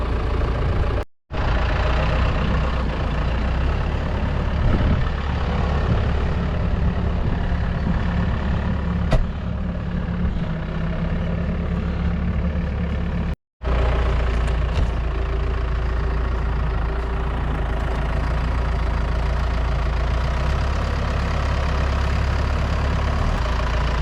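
A farm tractor's engine idles steadily at close range, a continuous low rumble that runs without a break apart from two brief dropouts.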